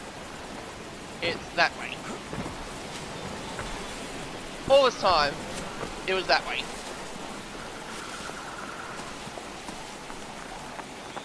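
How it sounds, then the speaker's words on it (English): Steady broadband rushing of a waterfall in the jungle shooter Crysis runs continuously as an ambience bed, with someone talking briefly over it midway. "Go past the waterfall. Supposed to go past the waterfall."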